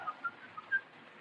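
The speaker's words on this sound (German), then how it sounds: "Na, hör doch mal, da pfeift doch einer." A man whistles in a city street, giving short thin notes in a broken, tuneless pattern, faint and somewhat distant, with no talking over it.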